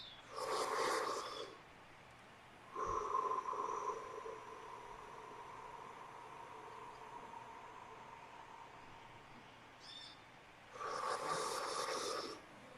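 A person demonstrating deep breathing takes slow, audible breaths at a calm, even pace: a soft hissing breath, then a longer low draw of air, then another breath near the end, all close and quiet with no talking.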